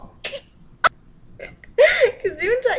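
A puppy gives two quick, sharp sneezes close by, a short pause between them. People then start talking.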